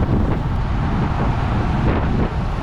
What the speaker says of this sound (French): je prenais énormément le vent, en plus du coup c'était du vent de face